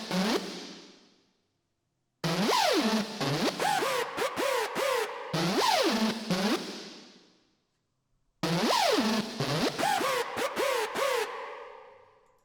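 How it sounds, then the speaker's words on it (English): Two synth screeches made in Vital for a hard techno track trade phrases in call and response, bursts of gliding, bending tones separated by silent gaps, each phrase ending in a fading tail. "Next we have those two screeches that sounds like this."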